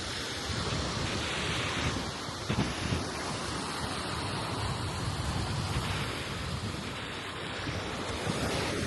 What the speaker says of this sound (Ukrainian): Сьогодні море спокійне.